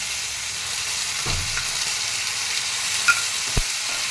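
Steady, even sizzle of garlic and ginger paste frying in hot oil, with a couple of brief clinks and scrapes from stirring near the end; no talking.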